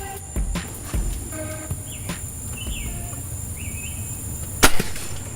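Arrow shot from a bow at a wild hog outdoors: a couple of sharp thumps and a louder snap near the end, with bird chirps in the background.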